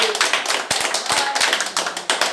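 A church congregation claps in bursts, sharp close hand claps and taps over a steady crowd wash, alone with no talk.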